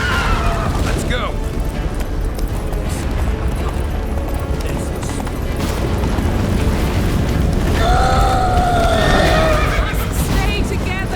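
A horse in The Witcher 3 whinnies loudly at the start and again later, with rumbling gallop and game effects running throughout, mixed with voices.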